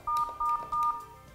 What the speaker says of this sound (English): Hit the star button three times to park the call.